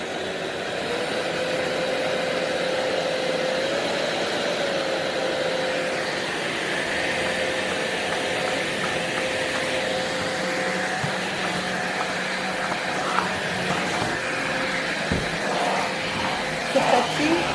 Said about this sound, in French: L'aspirateur sur les tapis, il adapte sa puissance tout seul. On l'entend.